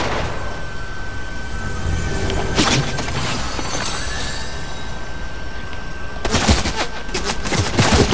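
Gunfire in a video game, with a constant wash of background battle noise broken by two loud bursts of rapid shots, one brief and one longer near the end.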